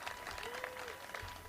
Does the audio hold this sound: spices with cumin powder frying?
no